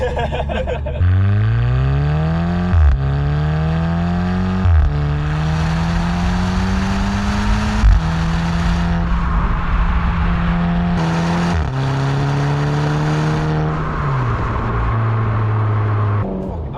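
Engine of a 2017 VW Scirocco R heard from the cabin while driving, rising through several gears in repeated climbing pulls with brief dips at each shift, loud and steady throughout.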